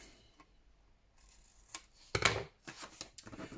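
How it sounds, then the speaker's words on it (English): Scissors trim the corners off a card tag in a quiet room, giving a few faint, close, crisp snips with short pauses between them. "I'm going to take my card, just trim off my corners like"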